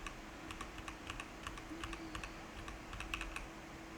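Fast, steady clicking of a computer keyboard as a command is typed in a quiet room, with close, even keystrokes and no speech.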